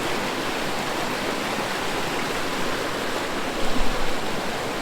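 Remote mountain stream rushing over rocks, a steady broadband wash of flowing water filling the whole span, close and constant with a slight surge near the end.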